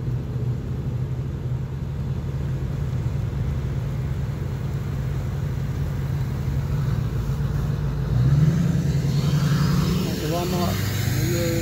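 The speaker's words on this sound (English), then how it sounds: "traffic on Highway 425 in Monticello on Friday," Road traffic on Highway 425 in Monticello, with a continuous low rumble of passing vehicles and one vehicle swelling louder and closer toward the end, a voice talking over it.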